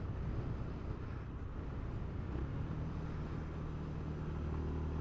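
The single-cylinder engine of a Honda GB350S motorcycle drones steadily while riding, a continuous low rumble mixed with road and wind noise.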